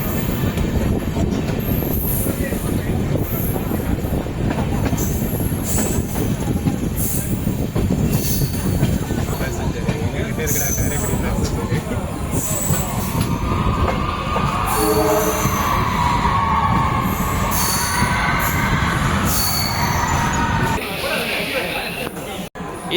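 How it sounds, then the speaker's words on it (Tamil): Inside a passenger train on its inaugural run, cruising at 110 km/h, wheels rumble and clatter steadily with squealing rail noise and wind, loud and continuous, while someone talks over it. "110 மேக்ஸிமம் 110ல் வண்டி க்ரூஸ் பண்ணிட்டு போயிட்டு இருக்கு"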